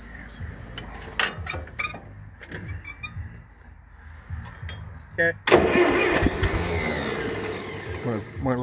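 A flooded Ferguson TO 35 tractor engine cranks, first as intermittent clunks among voices, then a loud, rough sustained cranking roar close by, with people talking throughout.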